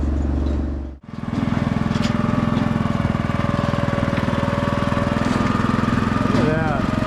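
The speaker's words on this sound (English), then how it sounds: "I've never seen a wood processor like this." A firewood processor cutting and splitting wood drones loudly and steadily up close, with its engine dipping sharply for a moment near the start before settling back into a continuous heavy running roar.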